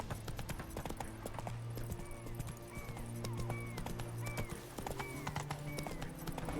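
Roach, a horse in The Witcher 3, gallops with steady rapid clip-clop hoofbeats and an occasional whinny, set over a continuous game music and ambience bed, with no talking.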